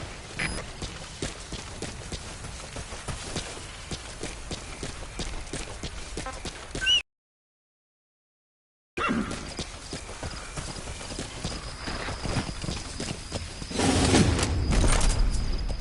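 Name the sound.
horse hooves clip-clopping in a video game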